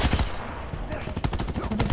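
Rapid automatic gunfire crackles in Call of Duty: Black Ops 4 multiplayer, dense overlapping bursts of shots close and loud across the whole stretch.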